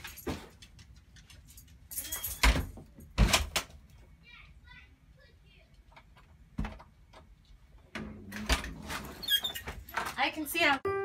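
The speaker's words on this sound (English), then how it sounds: "All right, close the door." A car door shuts with a couple of sharp thuds around the middle of the clip, followed by rustling and handling noises inside the vehicle, with a person talking intermittently throughout.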